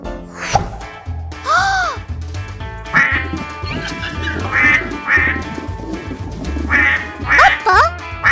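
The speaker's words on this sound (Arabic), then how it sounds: "بطة!" Loud, close duck quacks played from a novelty sound button during a 100-button challenge in a tent, repeated several times in quick bursts with excited voices and clatter between them.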